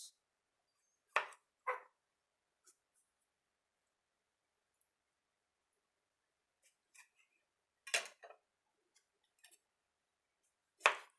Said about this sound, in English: Roughly chop it.